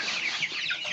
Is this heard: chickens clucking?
yes